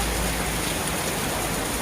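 Heavy rain pours steadily over a park in Guwahati, a dense, even hiss of falling water that fills the clip without a break and with no voices.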